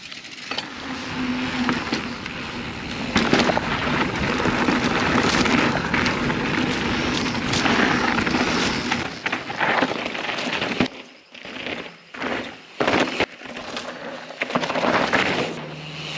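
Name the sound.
riding a Specialized Status 160 mountain bike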